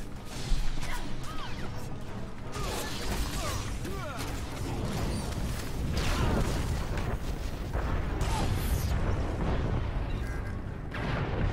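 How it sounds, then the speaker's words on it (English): Rumbling booms and crashing explosions from a video game, continuous and chaotic with clattering debris, loud, with indistinct voices mixed in. "calm down with the explosions"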